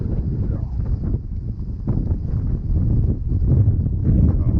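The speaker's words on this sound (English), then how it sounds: "Oh, the wind blowing like crazy again." Strong gusts buffet the microphone while fishing for crappies at a rock pile, a loud continuous low rumble that rises and falls unevenly throughout and grows stronger toward the end.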